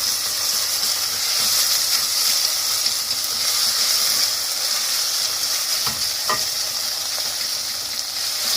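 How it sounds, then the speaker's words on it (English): Marrow curry base being stirred in a hot pan, a steady close sizzle and hiss with occasional scrape and clink of the utensil, no voices. "Giving it a good stir"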